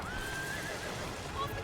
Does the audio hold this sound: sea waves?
no